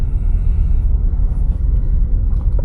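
A truck sits idling with its air conditioning running, a steady low engine rumble and broadband hum filling the space continuously and evenly, heard from inside the cab with no talk.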